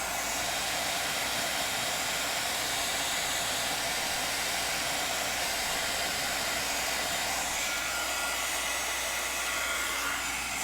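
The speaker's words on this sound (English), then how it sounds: "Melting embossing powder is just magical." A heat tool blowing hot air to melt embossing powder on a pink butterfly birthday card, a loud, steady, close-up whooshing hiss that runs unbroken throughout.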